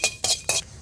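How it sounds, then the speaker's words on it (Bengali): Dried fish frying in a wok, heard as three quick, close scraping strokes of a spatula against the metal with a light sizzle between them. "তো শুটকি মাছগুলো একটু ভাইজা নিতেছি।"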